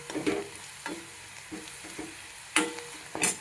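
Onion with turmeric fries in a pan, a soft steady sizzle broken by several sharp scraping stirs of a spoon against the pan, close and fairly quiet, with no talking.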